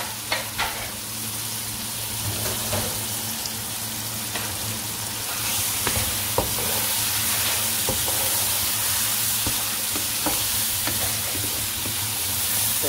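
Onions, coriander and green chillies frying in a pan, with a loud, steady sizzle and hiss throughout and occasional clicks and scrapes from stirring.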